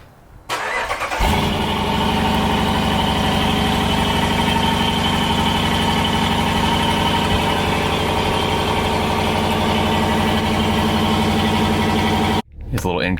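A 2020 Dodge Durango R/T on its stock exhaust cranks over and settles into a loud, steady idle with a deep, even rumble, then cuts off abruptly near the end.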